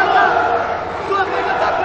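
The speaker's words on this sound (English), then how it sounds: "The crowd goes crazy." A crowd roars and cheers loudly and continuously at a Brazilian jiu-jitsu match, a dense, steady wall of voices with no pauses.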